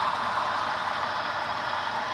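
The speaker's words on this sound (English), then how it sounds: "I'll put on the brakes here." The air brakes of a model train, driven by an ESU digital sound decoder, give off a steady, continuous hiss of escaping air with no breaks and no talking.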